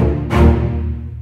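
A low strings ensemble patch from an orchestral sample library sounds one deep, sustained bowed note with a firm attack that slowly decays, heard alone and close.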